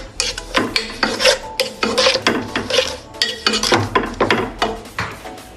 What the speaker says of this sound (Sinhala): අපි ඒකත් මේ මිශ්‍රණයටම දාගන්නවා දැන්. දාලා හොඳින් කලවම් කරගන්න.